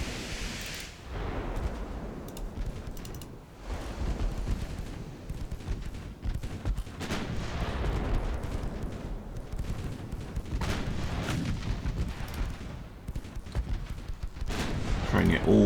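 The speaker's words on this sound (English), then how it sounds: "Try and get all the guns firing." Warship guns in Ultimate Admiral Dreadnoughts, deep booming salvos and rumbling blasts repeating throughout amid a steady roar of battle noise, with a voice now and then.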